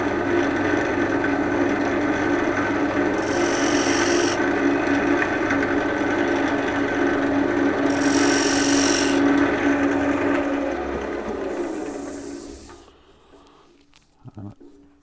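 A skew chisel cuts detail lines into a black walnut bowl turning on the lathe. A steady close scraping rasp runs over the hum of the lathe, with two brighter bursts, before the sound fades away near the end.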